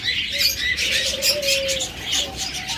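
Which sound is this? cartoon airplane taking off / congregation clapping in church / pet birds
pet birds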